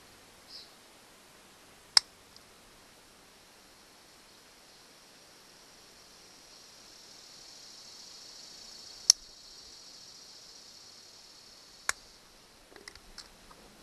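Wire cutters snip through the wires of a Hopkins 7-pin to 4-flat LED trailer light adapter: three isolated sharp clicks spaced several seconds apart in a quiet room, with a few faint handling rattles near the end.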